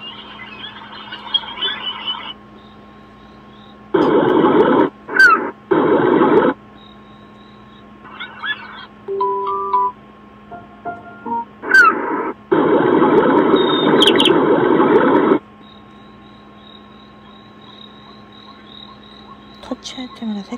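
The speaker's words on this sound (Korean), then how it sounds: "갈매기 우는 소리를 할 수도 있어." An ocean-wave mood lamp plays electronic seagull cries in several blocky bursts through its small speaker, with short tonal chirps between them over a steady low hum.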